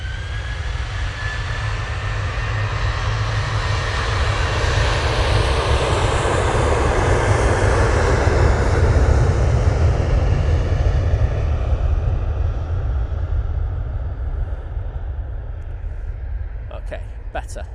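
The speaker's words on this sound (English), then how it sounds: "the A350 approaching from southeast, going to Chicago" An Airbus A350 on approach to Manchester Airport, a loud sustained jet roar that swells and holds steady, with a rising whine faintly above it, while people talk over it.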